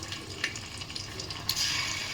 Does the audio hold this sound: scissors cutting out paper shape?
no